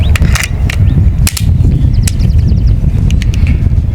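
Several sharp pneumatic air rifle shots from an AEA Defender 2 on an outdoor range, sounding as scattered loud cracks at irregular intervals with faint clatter between them.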